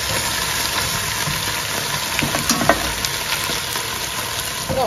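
Chicken browning in a hot pan, frying with a steady, close sizzle and crackle and occasional louder pops as pieces are stirred, no voices over it.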